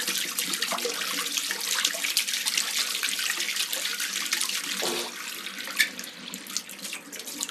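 Water running from a household tap, a steady hiss and splash that carries on for several seconds at moderate level, with a brief dip and a small clunk partway through and no talking.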